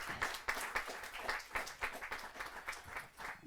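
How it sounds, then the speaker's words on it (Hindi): An audience at a Hindi kavi sammelan poetry gathering claps in a fairly rhythmic, pulsing round of applause, moderately loud and sustained, with no talk over it. "अभिनंदन सर सामने जोरदार ताली के साथ"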